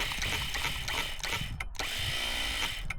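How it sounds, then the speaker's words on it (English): An electric launch winch motor for F3B model gliders whirs steadily at the flying field while it spins the drum, with two brief cut-outs as the switch is released and pressed again. "By pressing it, you can see it activates the motor that's rotating the winch"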